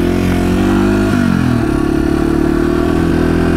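A Yamaha TW200 dual-sport motorcycle riding a silty dirt road on Maple Springs Road, its single-cylinder engine droning loud and close at steady mid revs with a slight pitch shift, under heavy wind rush and no speech.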